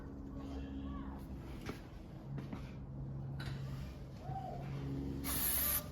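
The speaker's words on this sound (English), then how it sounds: "now we're going to spray that caliper off a little bit where I got some of that brake fluid on there" Cleaner sprayed onto a brake caliper during a front pad and rotor job on a 2007 Cadillac Escalade ESV, heard as short close hissy bursts, the loudest near the end, amid workshop background noise.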